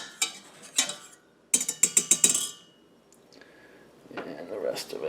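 Wire whisk beating a white sauce of flour and liquid in a pan for chicken enchiladas, a quick run of sharp metallic clinks and scrapes against the pan bottom, with quieter stirring and kitchen clatter before and after.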